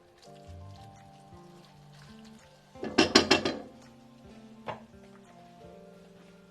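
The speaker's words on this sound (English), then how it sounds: "I added our shrimp in here, and I'm gonna cook that" Shrimp cooking in a pan, with soft background music and a brief burst of metallic scraping and clattering as the pan is handled partway through, followed by a single lighter clink.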